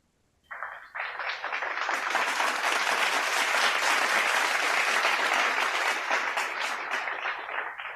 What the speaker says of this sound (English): Look, I'll get the people to applaud you.